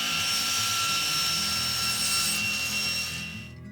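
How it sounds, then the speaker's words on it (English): A table saw cuts away excess wood from a mitered dovetail box board, its blade giving a steady high whine and hum that runs loud and close throughout, then drops off as the cut ends. "now all I need to do is align the knife with my table saw blade and cut away the excess"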